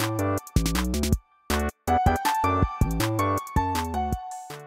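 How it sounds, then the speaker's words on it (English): A piano-like lead plays a bright, stepwise melody in Frutiger Aero-style electronic music, with sustained notes over a steady backing and brief gaps between phrases. "Mostly piano for the lead."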